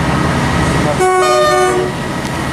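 Class 158 diesel train at Shrewsbury station sounds its horn in a short tune, loud two-tone blasts for under a second over steady rumbling engine noise, with no talk.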